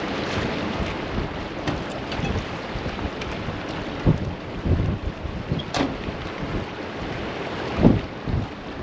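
Blustery wind on the banks of the River Humber at Paull during stormy weather, buffeting the microphone with a constant rough rush and occasional heavier gusts and thumps.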